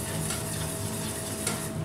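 A pot of roasted red pepper bisque is stirred, producing a dense, steady scraping and swishing close by with faint utensil taps against the pot and no talking.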